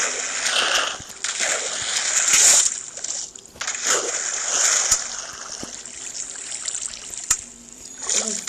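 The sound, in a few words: water flowing from a bucket in the video game Minecraft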